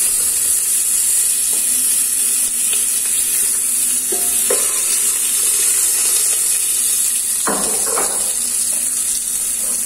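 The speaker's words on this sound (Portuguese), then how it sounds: "Aí o alho aqui, ó, já tá dourado. Aí vou com essas cebolas em rodela mesmo." Onion rings go into a pan of oil with garlic already browned, setting off a loud, steady close-up sizzle with occasional clinks and stirring scrapes throughout.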